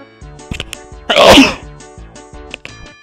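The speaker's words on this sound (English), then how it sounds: "I'm gonna sneeze." One loud, close human sneeze bursts out mid-clip over a steady background of tonal electronic music with soft clicks.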